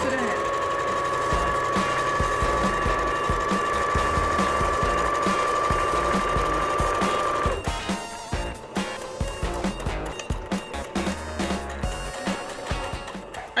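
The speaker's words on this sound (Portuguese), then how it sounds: "Passa uma costura reta." A sewing machine runs steadily as it stitches a straight seam in TNT nonwoven fabric while making an Easter gift bag, first in one long continuous run and then in shorter stop-start bursts.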